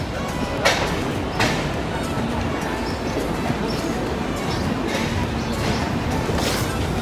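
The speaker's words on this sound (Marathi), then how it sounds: "आपली ट्रेन आता सुटलेली आहे" A train departs and rumbles along with a continuous low roar and rattle, occasional clanks and faint squeals, heard from inside a carriage.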